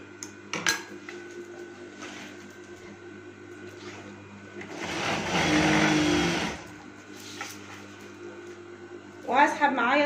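A sewing machine stitches tape onto a curtain in one sustained whirring run of about two seconds, framed by scattered clatter and handling noise.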